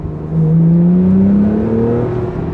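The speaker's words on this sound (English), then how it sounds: "I've got the sports exhaust on. It's on. It's in its loudest setting right now." A Porsche 911 Carrera 4S (991.2) with its sports exhaust on the loudest setting pulls in second gear, the engine note rising steadily in a smooth, loud, close drone from inside the car, without talking.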